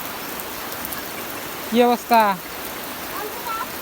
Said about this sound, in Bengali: ওরে বাবা দেখেন বৃষ্টির অবস্থা দেখেন